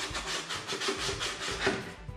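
Rhythmic back-and-forth rubbing of a taped sanding stick along the edge of a belly fairing on a RANS S-21 aircraft, a close, raspy scraping repeated several times in quick strokes.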